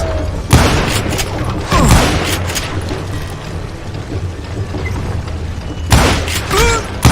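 Dynamite blasts in the Western shooter Call of Juarez: Gunslinger: three loud, deep booms spaced seconds apart, each a sharp crack followed by a rumbling tail, with quieter ambient rumble in between.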